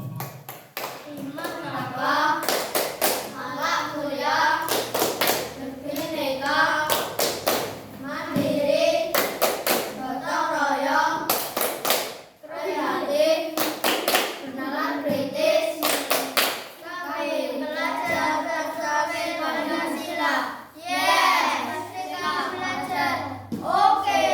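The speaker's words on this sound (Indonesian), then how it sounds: "Tepuk profil pelajar Pancasila." Children perform the Pancasila student profile clapping chant in a classroom, chanting in unison between rhythmic bursts of sharp group claps, repeated in a patterned sequence that stays loud and close throughout.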